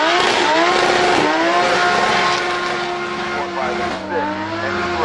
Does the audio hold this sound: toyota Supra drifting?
yes